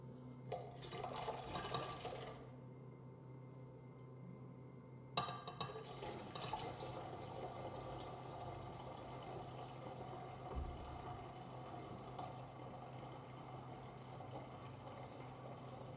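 Water pours into a laboratory flask while a yeast starter is being made, a faint splashing fill in two bursts separated by a short pause, then a softer trickling continuing, quiet and close, with no talking.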